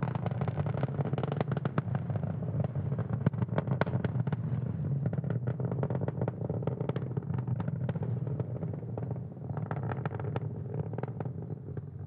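SpaceX Falcon 9 rocket engines roaring during ascent through the lower atmosphere near max Q on the Türksat 6A launch, a dense, continuous crackling rumble with sharp popping bursts, steady and loud throughout.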